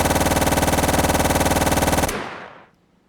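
Rapid looped machine-gun fire from a high-recoil video game weapon, a dense steady burst of evenly spaced shots that stops abruptly after about two seconds and leaves a fading echo tail.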